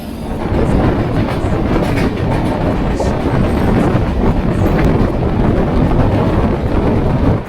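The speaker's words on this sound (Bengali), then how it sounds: "ইস্ট কোস্ট এক্সপ্রেস দেখো স্পিড দেখো 80-তে টানছে।" The East Coast Express (18045, Shalimar to Hyderabad) runs at about 80 km/h, a loud, constant roaring rumble with wind buffeting heard close from on board, no voices.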